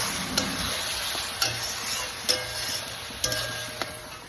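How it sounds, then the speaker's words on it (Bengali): Mushrooms stir-fried in a pan for a Bengali mushroom kosha, a steady close sizzle with a few sharp scraping stirs of the spatula spaced about a second apart, no voices. "তো রান্না হচ্ছে মাশরুম কষা"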